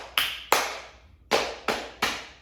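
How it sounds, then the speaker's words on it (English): Hands slap down on the legs five times in an uneven rhythm, each one a sharp, close smack with a short fade and nothing else heard between them. "But does it sound the same if you clap your hands on your legs?"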